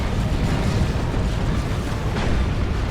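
A cannon being destroyed in the video game Dawn of War 2 produces a loud, sustained rumbling blast of explosion noise with no clear gaps, heard alone without talk.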